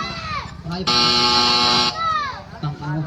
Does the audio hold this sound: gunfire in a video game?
no